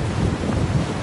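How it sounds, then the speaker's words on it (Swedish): Strong seaside wind buffets the microphone in a steady, loud, low roar, with no other sound standing out. "Jäkla vind då. Oj vad det blåser."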